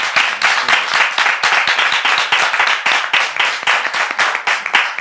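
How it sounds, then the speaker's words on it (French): Studio audience on a French live show breaks into sustained applause, dense rapid clapping from many hands at an even, steady level throughout. "On peut le témoigner avec des applaudissements,"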